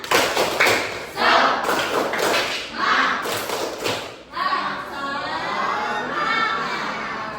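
Schoolchildren in a classroom clap together in a quick rhythmic pattern of sharp bursts, then break into loud excited shouting and cheering nearby.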